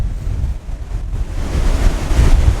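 Ocean waves surge and break between coastal sea stacks, a steady close roar of surf with a building crash toward the end, buffeted by wind rumble on the microphone.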